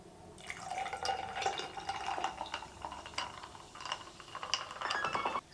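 Orange soda poured into a cup gives a fizzy, trickling splash with crackling carbonation, close and fairly quiet, lasting a few seconds.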